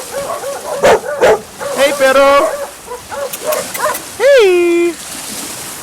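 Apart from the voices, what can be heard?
stray dog barking in Guatemala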